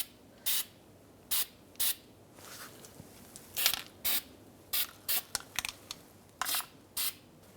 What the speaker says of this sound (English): so now we're going to spray some anti-seize lubricant